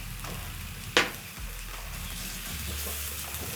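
Onions browning in a pan sizzle and fry steadily as crushed garlic and ginger go in, with one brief sharper burst of hissing near the start, then a continuous crackle.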